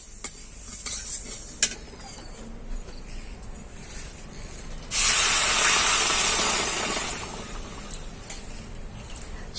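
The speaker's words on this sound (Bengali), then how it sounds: "এবার আমি জল দিয়ে দেবো।" Water is poured onto fried moong dal in a hot pan, setting off a sudden loud hissing burst that fades over a couple of seconds, with light utensil clinks before and after.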